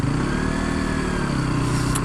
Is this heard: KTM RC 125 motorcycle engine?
yes